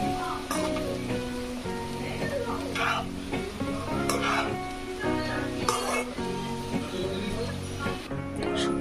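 Rice fries with spices in ghee while a spoon stirs it, with a busy crackling sizzle broken by clattering scrapes and knocks against the pan.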